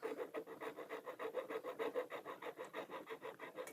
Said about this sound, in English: Doing it with a nice dull hacksaw because, well, that's how it is.